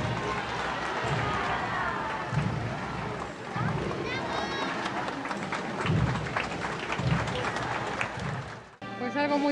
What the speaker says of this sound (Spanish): Los aplausos, los gritos de fervor y hasta las lágrimas no se hicieron esperar.